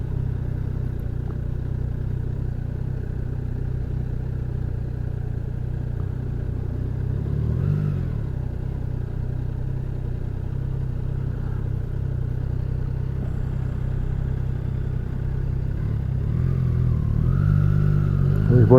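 A Triumph Tiger Sport 660 motorcycle trickles along at slow speed, its engine a steady low rumble under wind noise that swells slightly toward the end.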